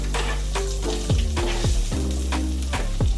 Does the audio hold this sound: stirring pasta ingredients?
yes